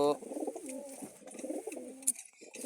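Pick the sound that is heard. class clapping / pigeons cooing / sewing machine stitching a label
pigeons cooing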